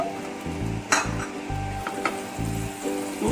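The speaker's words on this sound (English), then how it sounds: "We will start with some oil in the hot pan, little bit of oil, then you can add the butter" Oil and butter sizzle in a hot pan with a steady frying hiss, while nearby utensils clink and scrape against the pan in short bursts.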